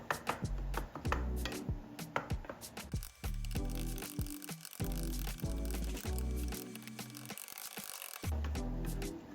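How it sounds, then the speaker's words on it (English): Food in a pan being chopped finely during meal prep, a steady run of quick, close knocking and scraping strokes with brief pauses, no talking. "we're just gonna chop the whole time"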